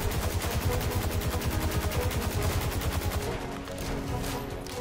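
Rapid sustained automatic gunfire in Destiny 2, a fast even stream of close, loud shots for several seconds that eases slightly toward the end.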